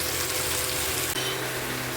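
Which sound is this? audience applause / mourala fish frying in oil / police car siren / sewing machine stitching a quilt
mourala fish frying in oil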